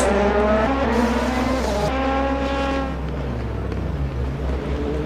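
Race cars skid off the track at Suzuka in a racing video game, a loud engine scream falling in pitch with tire squeal, then fading into lower rumble, with no talk.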